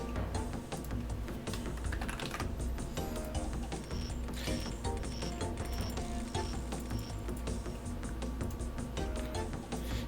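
Rapid keyboard typing during a computer game session, dense irregular clicks running continuously over a steady bed of game music and sound effects.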